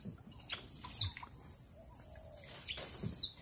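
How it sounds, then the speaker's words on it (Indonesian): Birds, including ayam-ayaman, takukur and koce, chirp and call at night in short bursts against a faint, steady insect drone, with a couple of clear trills spaced a few seconds apart. "banyak nyanyian burung ini"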